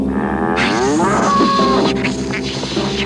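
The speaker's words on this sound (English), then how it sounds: "It was the woodcutter's cow." A cow moos loudly and close, one long drawn-out bellow with a rising, wavering pitch over a continuous background of music.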